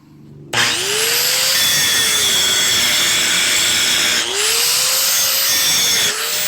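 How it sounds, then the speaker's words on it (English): Angle grinder running on a 1975 Ford 550 backhoe, a loud close high-pitched whine that spins up suddenly, holds steady with harsh grinding hiss, and briefly dips and recovers twice. "let's get the grinder out, make a mess of things"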